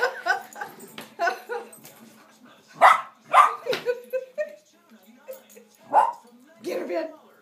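Several dogs bark and yip in short bursts while playing, near and fairly loud, mixed with whimpers and a person's urging voice between the barks.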